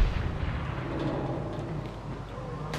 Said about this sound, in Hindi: Oh shit, grenade.